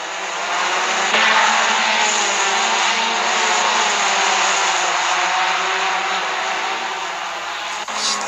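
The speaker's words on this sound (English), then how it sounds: "That big field of Porsches streaming down to the hairpin" Porsche RSR race cars in a sim racing game at Okayama stream toward the hairpin, a dense, steady engine roar that holds at a loud level throughout with no talk over it.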